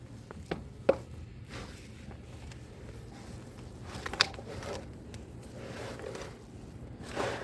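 Hands work a stiff mix of clay and cow dung for a homemade mud stove, giving soft, faint squishing and a few light thumps and pats at an uneven pace, close by with no talk.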